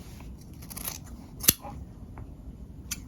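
Scissors snip through fabric, trimming the seam allowance of a single welt pocket with a pocket flap. A few soft cuts are heard up close, with one sharp, loud snip in the middle.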